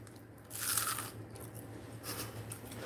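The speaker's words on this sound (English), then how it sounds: "They're so crunchy. Can y'all hear how crunchy they are?" Close crunching bites and chewing of crisp fried onion rings, with two louder bursts of crunching separated by quieter chewing.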